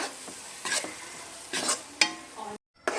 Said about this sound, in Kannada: ಹಾಕಿ ಚೆನ್ನಾಗಿ ಅದ್ರ ಹಸಿ ಸ್ಮೆಲ್ ಹೋಗೋ ತನಕ ಫ್ರೈ ಮಾಡೋಣ